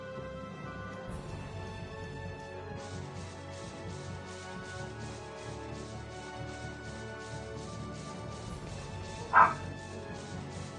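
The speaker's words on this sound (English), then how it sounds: "why is my dog barking like crazy?" A dog barks in the video game Tales of Vesperia, set against steady in-game music, with one sharper burst standing out near the end.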